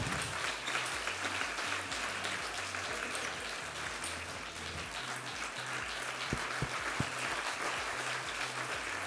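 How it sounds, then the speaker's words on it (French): Audience applause for volleyball players after a rally, steady dense clapping throughout with no pause, loud and close. "on peut les applaudir."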